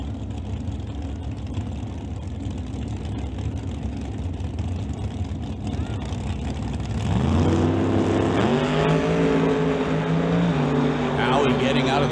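Canada West Doorslammers drag race cars in a quarter-mile qualifying session: a steady loud background rumble gives way midway to a swelling, rising engine roar as the cars launch, with an announcer talking over it.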